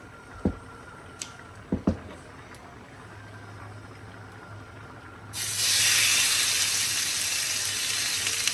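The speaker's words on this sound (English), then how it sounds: "now the chicken is ready to go in the pot because it's sizzling" Chicken pieces drop into a hot pot and break into a loud, steady sizzle that builds and holds bright and close, after a few sharp clatters of handling in a home kitchen.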